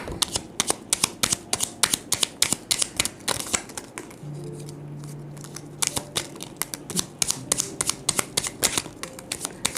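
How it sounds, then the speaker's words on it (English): Rapid, crisp riffling of playing cards being shuffled, repeated bursts of clicking flutter with a short quieter pause in the middle, close and fairly loud. "Let me finish the shuffle."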